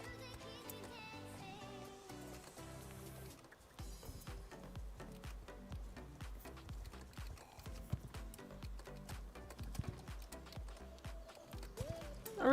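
Horse hooves in the video game Star Stable Online, a rhythmic clip-clop of a horse moving through a redwood forest, steady and close, with game music playing at the start.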